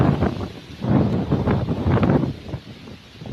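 Strong wind gusts blowing dust across an open farm field, a loud continuous rushing roar that swells and eases in waves, with heavy buffeting against the microphone.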